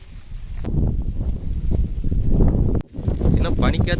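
Strong wind on the Vagamon hills buffets the microphone in heavy, uneven gusts with a short drop-out partway through, and a voice briefly comes through near the end.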